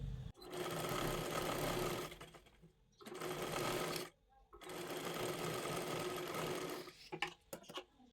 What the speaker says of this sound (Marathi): इथे कडेला बरोबर अशा पद्धतीने पूर्ण शिलाई मारून घ्यायची आहे